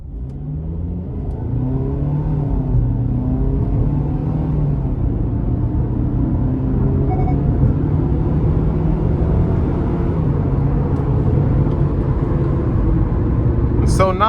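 A 2023 Kia Sportage SUV with about 58,000 miles accelerates in smart drive mode, its engine note rising steadily and sustained, a continuous mid-pitched hum and whir heard from inside the cabin with no talk over it.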